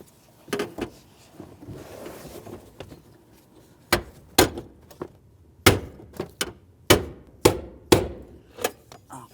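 Sharp metallic hammer strikes on a brass punch against the fuel pump ring of a 2000-2005 Buick LeSabre, a few scattered blows at first, then a steady run of loud, evenly spaced taps up close.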